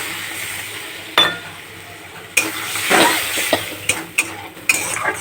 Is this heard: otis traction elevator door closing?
no